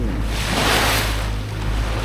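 Small one- to two-foot waves wash against the hull of a sailboat under sail on the Chesapeake Bay, a steady close rush of water and surf with wind noise across the microphone, no talking.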